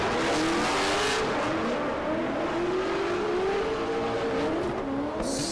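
Drift cars battle in a championship final in Oman, including a BMW, with steady loud engine roar, rising and falling revs and continuous tire squeal throughout, heard from a distance as a constant wash of race noise.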